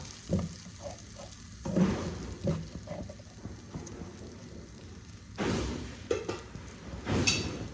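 Rui fish sautéing in oil and spice paste in a pan for Bengali rui posto, giving a steady crackling sizzle with louder spattering bursts, heard alone without talk.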